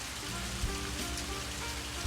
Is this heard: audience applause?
no